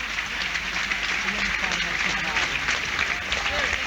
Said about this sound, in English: this is a planned applause after 14 minutes or so